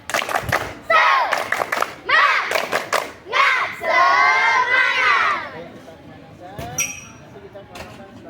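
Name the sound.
children repeating the rhythmic spirit clap chant louder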